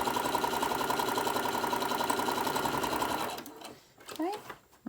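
Sewing machine running steadily as it stitches a fabric lanyard strap, a fast even whirring hum that stops partway through, followed by handling noises and a person speaking.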